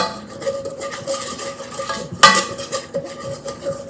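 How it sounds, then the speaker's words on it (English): A whisk scrapes and clinks steadily in a pan as flour is stirred into melted butter to start a bechamel sauce for mac and cheese, with one sharper metallic knock partway through. "take 2 tablespoons of flour and put that in your melted butter. Make sure you whisk it while you put that in there."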